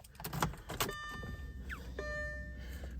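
An Audi A4 with a swapped big-turbo V10 engine cranks and catches, settling into a steady running idle, with a few clicks and clunks at the start and whining tones above.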